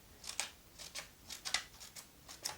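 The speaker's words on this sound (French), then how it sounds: "Avec le ciseau, on fait des petites coupures." Scissors snipping paper to make small cuts for a lily-of-the-valley craft, five or six crisp, close snips at a steady, unhurried rhythm, with nothing else heard.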